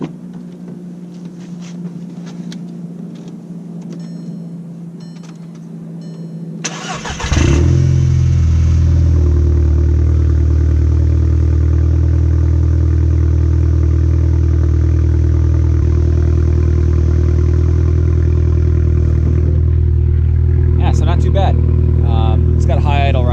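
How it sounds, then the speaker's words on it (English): A 2011 VW MK6 GTI with an almost straight-piped custom exhaust cold-starts after a quiet lead-in, catching with a loud bark and settling into a steady, droning high idle close by, with a person talking. "So I'm going to do a cold start right now so you can check out the cold start"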